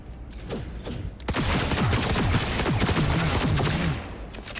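Gunfire from a weapon in the video game Cyberpunk 2077, a short sharp shot followed by a sustained, loud burst of rapid fire with mechanical clatter and a tonal whine beneath.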